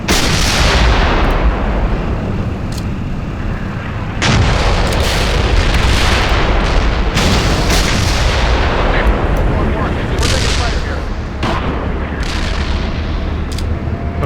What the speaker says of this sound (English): fire mission right on top of our position